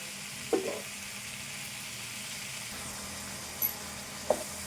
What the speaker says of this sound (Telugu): ఇట్లా కలుపుకుంటా కొద్దిసేపు ఇది ఇందులో వేగాలి